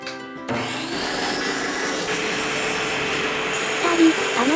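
Wood being cut into shape for a dowel jig, a steady, loud power-tool whine with rasping, rubbing texture that starts abruptly and holds evenly, close up without talk.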